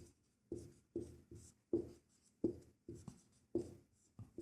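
A pen writes on paper during a Hindi-language probability lesson for class 10 maths, a steady series of about ten short scratching strokes, close and fairly faint, with quiet pauses between them and no voice over it.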